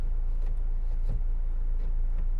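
A 2018 Ford Transit Custom 2.0 TDCi van drives along with a steady, low engine and road rumble inside the cab, even and unbroken, with no talking.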